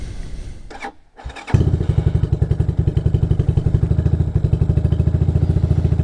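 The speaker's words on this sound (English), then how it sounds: "Awesome cold start." A carbureted motorcycle engine cold starts, cranking briefly, catching, and settling into a loud, steady, chugging idle with rapid regular pulses, close by.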